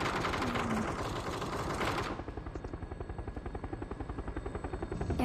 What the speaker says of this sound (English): Helicopter. Maybe I can hit it with the RPG.